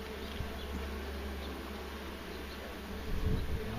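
Honeybees buzz at an opened beehive, a steady, close, moderately quiet droning hum with no talk, briefly joined by a soft low bump near the end.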